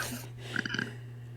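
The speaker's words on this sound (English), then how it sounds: "Bless you to whoever just burped" Someone lets out a short, throaty burp of a few quick pulses in the middle of a quiet room with a low steady hum behind it.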